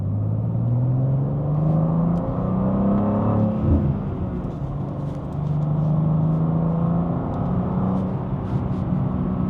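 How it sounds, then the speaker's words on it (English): Manual BMW M2 G87 accelerating hard in second gear on an open road, its engine tone rising steadily, dipping briefly, then climbing again, loud and close from inside the cabin, no talk. "Second gear, national speed limit. I'm going to roll into it."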